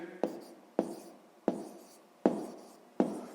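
Pen or pencil strokes on paper as a sixth-grade maths calculation is written by hand: five short scratching bursts, each starting sharply and trailing off, close and clear with no talk.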